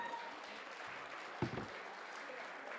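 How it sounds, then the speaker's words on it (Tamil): An audience at a Karakattam stage event welcomes Aishwarya Prabhakar with steady, fairly faint applause heard from a distance, with a brief louder thump partway through and faint voices beneath. "ஒரு பெரிய கரகோஷத்தோட அவங்களை வரவேற்கலாம்."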